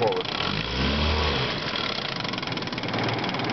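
A 1967 Johnson 6 hp outboard motor running in forward gear, a steady, close low engine drone with a brief heavier rumble near the start, continuing evenly throughout.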